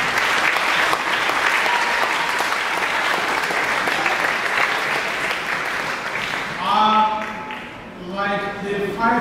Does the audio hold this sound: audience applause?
yes